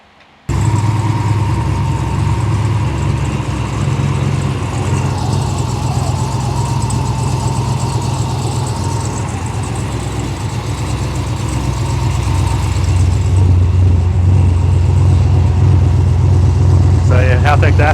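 A Nissan S13 car engine, tuned and fitted with a Haltech system, starts abruptly and settles into a loud, steady idle up close, with a slight rise in level toward the end.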